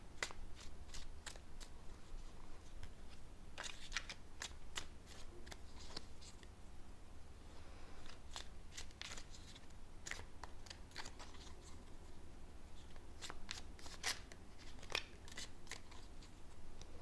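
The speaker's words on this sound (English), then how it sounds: "I will give them a little extra shuffle here while I connect to your energy" A deck of tarot cards being shuffled, soft, quiet riffles and sharp flicks of card edges at an uneven pace, close and alone with no voice.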